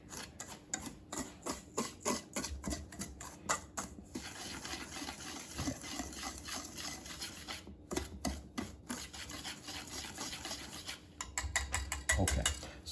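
Dry scone ingredients being stirred in a bowl, repeated close scraping and rubbing strokes in uneven bursts with short pauses, and no talking.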